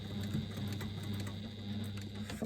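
A sewing machine runs close and steady, stitching through the folded fabric of a press bag with a continuous rapid whir and a regular patter of needle strokes, easing slightly near the end.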